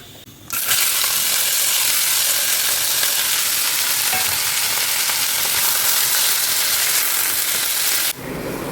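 Wheat dalia dry roasting in a pan with another grain, a steady dense frying sizzle and stirring scrape that starts abruptly and runs loud and continuous for about eight seconds before cutting off.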